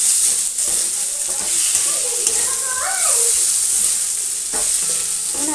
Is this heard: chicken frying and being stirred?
yes